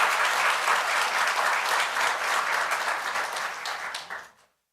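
Loud, steady applause from an audience at a National Assembly policy forum in Korea that holds for about four seconds, then quickly tapers off into silence.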